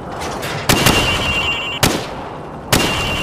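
Three sharp rifle shots crack at targets on a Call of Duty 4 shooting range, spaced about a second apart, each loud and close with a short ringing tail, and no one talking.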